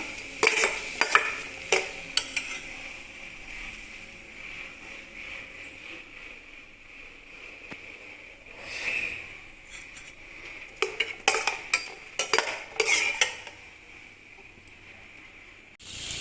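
Broad beans are stirred in a pan over a mild flame, with intermittent bursts of metal spatula scraping and clinking over a faint, low sizzle between stirs.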